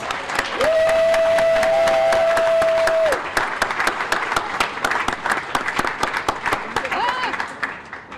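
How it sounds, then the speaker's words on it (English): An audience at a community awards event gives award winners a warm round of applause, loud dense clapping with a sustained whistle-like tone early and crowd voices mixed in. "please give them a warm round of applause and congratulations"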